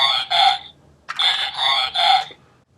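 A Transformers Generation 2 Megatron toy's electronic voice effect, the 'Megatron Attack' phrase triggered by tapping the robot head, comes out as a tinny, distorted two-part squawk. It is loud and close, with no talking.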